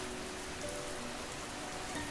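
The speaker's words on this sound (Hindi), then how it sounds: "तभी इतनी तेज बारिश शुरू हुई" Heavy rain pours down in a horror cartoon scene, a dense, steady hiss of drops hitting surfaces that fills the whole moment evenly with no voices.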